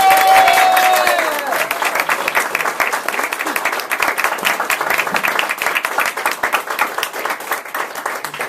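An audience at a 10th anniversary celebration applauds to welcome speaker King Chan, a youth leadership alumnus: loud, sustained clapping fills the room, with a brief voice at the very start before the clapping takes over.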